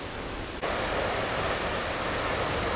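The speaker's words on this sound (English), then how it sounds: "Alright, this is the first view of the waterfall." Fane Falls waterfall on the Bolaven Plateau pours as a steady, dense broadband roar, loud and unbroken throughout, with a brief dip near the start before the rush settles back in.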